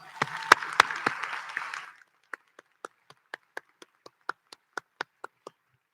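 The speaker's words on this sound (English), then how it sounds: "Please honor these with a round of applause." At a Texas Academy of Biomedical Sciences graduation in an activity center, a brief burst of audience applause for the senior class sponsors stops after about two seconds, then a dozen isolated, sparse claps follow in near silence.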